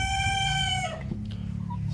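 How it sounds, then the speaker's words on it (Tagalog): A backyard hen, part of a small flock given wood-ash dust baths, lets out a crowing-style call with stacked harmonics over the first second, followed by low steady clucking and farmyard noise that runs to the end. "Ito pa ang isa nating hen."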